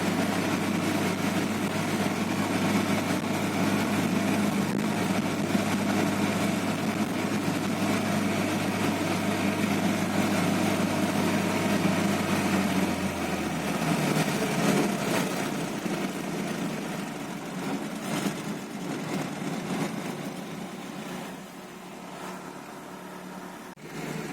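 A Lada Niva engine runs at steady, unknown revs, a loud continuous drone that later drops lower and rougher, close up, with no talk over it.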